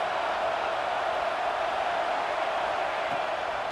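A stadium crowd in the College Football 26 video game roars in a dense, steady wash of noise that holds at an even level throughout, with no clear voices standing out.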